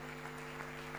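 Audience applause at a youth conversation event, a steady wash of clapping from a large crowd over a low hum, fairly faint and continuous throughout.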